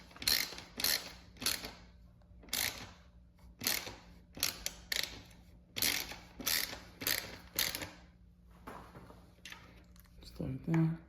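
Bolts on a motorcycle taillight mount for an Aprilia RS 660 or Tuono 660 being tightened with a ratchet, in irregular bursts of quick clicking, close, with short pauses between runs.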